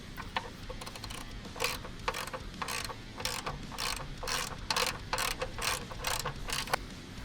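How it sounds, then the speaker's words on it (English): A wrench ratchets on a Ford Mustang GT during an oil change, a series of quick clicking bursts in an uneven rhythm, close and fairly faint over a low background hum, with no talking. "just grab your wrench"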